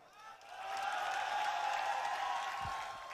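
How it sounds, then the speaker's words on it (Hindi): Crowd applause at an outdoor political public meeting in Madhya Pradesh, a swelling wave of clapping that rises quickly, holds steady, then tapers off, heard from a distance. "अभी ताली मत बजाओ"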